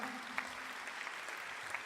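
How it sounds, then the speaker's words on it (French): A faint, distant audience claps in a steady patter throughout, with a few sharper claps standing out, at a French Lions Clubs diabetes-screening event. "je voudrais qu'on vous applaudisse, mais vraiment très fort"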